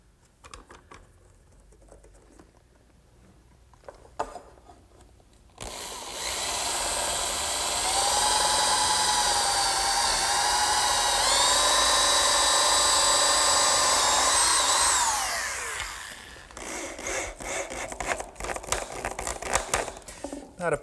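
A power drill bores bolt holes through a clamped wooden brace on a garden swing, a loud sustained whine lasting about ten seconds with rising pitch, framed by lighter clicks and handling knocks before and after.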